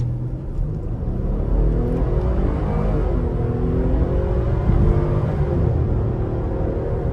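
A Jeep Trackhawk accelerates hard from a green light at night, its engine a deep, steady, loud rumble heard from inside the cabin, sustained throughout without talk.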